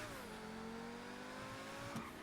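A sports car engine in the video game GTA 5 drones and rises in pitch as it revs, with a brief sharp burst near the end, heard faintly.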